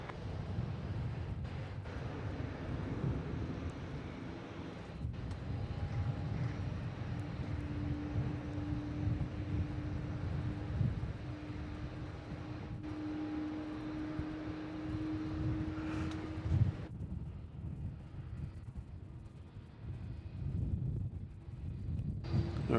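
A Virgin Australia airliner lands on runway 34 in strong wind: a steady distant jet roar with a faint engine tone, heard through wind noise on the microphone and fading toward the end.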